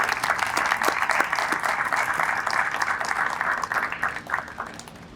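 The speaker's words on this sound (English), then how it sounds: "One more round of applause" A ceremony crowd at a police and fire awards event gives sustained, fairly loud applause that thins slightly toward the end.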